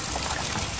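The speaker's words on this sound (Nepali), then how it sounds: "एउटा यो पाइपबाट पनि यति ठुलो पानी झरिरहेको छ" Water gushing from a pipe at a water collection tank and intake dam under construction in Pakuwa, Nepal, a loud steady rushing flow filling the short moment with no break.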